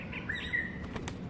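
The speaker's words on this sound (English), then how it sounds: "And there is a pigeon. Pigeon, come pigeon. You will never run from me." A pigeon's wings flap in a quick flurry of beats, fairly close, over a steady outdoor background with a few faint chirps.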